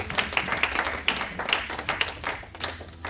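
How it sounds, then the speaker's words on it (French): A church congregation claps in acclamation after a Bible reading, fairly faint, uneven clapping with some sharper individual claps over a low background hum. "J'appelle une acclamation."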